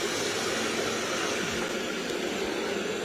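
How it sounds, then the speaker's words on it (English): A Roborock S7 robot vacuum and mop running on the floor, a steady broadband whir and hiss of its suction motor filling the whole stretch at moderate level, with no talk. "You'll hear some of the vacuum kick up."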